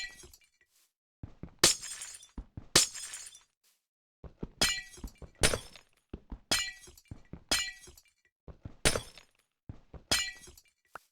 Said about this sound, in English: It feels very satisfying breaking all that glass.